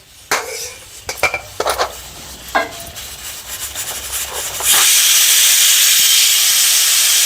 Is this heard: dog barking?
no